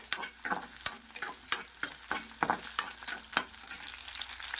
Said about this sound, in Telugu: ఆయిల్ హీట్ అయ్యి పచ్చిమిర్చి ఇలా ఫ్రై అవుతున్నప్పుడు వెల్లుల్లి ఒక 2 వేసుకోండి